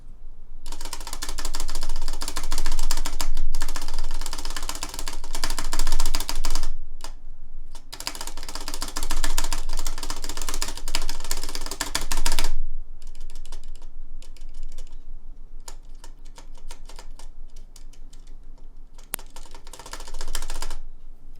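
Keys pressed in rapid bursts on a keyboard fitted with Durock V2 stabilizers, a loud close clatter of typing with slight rattle, pausing briefly between runs.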